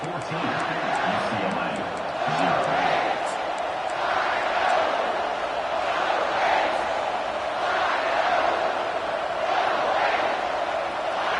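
A loud, constant stadium crowd roar from a college football video game, with rhythmic swells and chanting, filling the whole span, with a voice partly buried beneath it.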